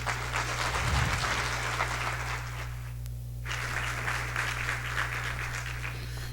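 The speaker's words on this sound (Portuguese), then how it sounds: "eu peço uma salva de palmas" Applause at a solemn session in Manaus, Brazil, marking Cyclists' Day: a steady crowd clatter over a low electrical hum, with a short lull in the middle before the clapping picks up again.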